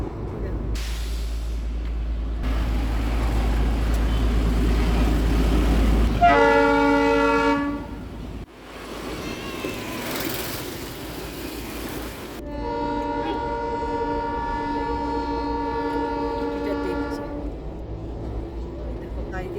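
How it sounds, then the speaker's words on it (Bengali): A toy train runs beside a road near Darjeeling More, its horn blaring in long harmonic blasts twice over a rumbling engine and rolling wheels, heard loud and close from a vehicle. "টয় ট্রেন যাচ্ছে"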